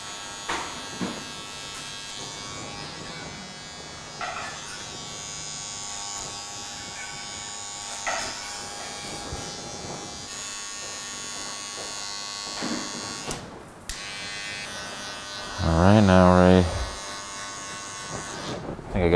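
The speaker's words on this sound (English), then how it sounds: "A little bit of trimmer work, man." Electric hair trimmer cutting hair in a barbershop, a thin steady buzz running through most of the stretch with brief louder passes near the end, under intermittent talk.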